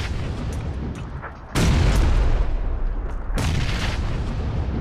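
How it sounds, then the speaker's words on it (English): Grenade explosions in Call of Duty 2, two loud booming blasts a couple of seconds apart, each a sudden broad burst followed by a rumbling tail over steady background battle noise. "they're lobbing grenades"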